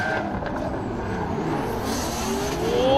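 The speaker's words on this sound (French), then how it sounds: "Avec la BMW numéro 21 qui va s'élancer en tant que leader." BMW and Nissan race cars launch together at a race start, a rough, mid-distance roar of engines building steadily and swelling louder toward the end.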